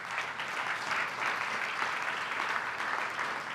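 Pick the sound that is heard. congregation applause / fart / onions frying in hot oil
congregation applause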